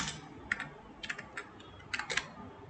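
Keys tapped on a computer keyboard while editing text in a PDF, a few quick clusters of light clicks close by, separated by short pauses, over faint room noise.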